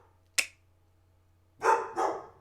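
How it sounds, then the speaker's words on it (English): A dog barks indoors: one sharp single bark, a pause, then two loud close barks in quick succession over a low steady hum. "Who you barking at? Come here. You hear my dog?"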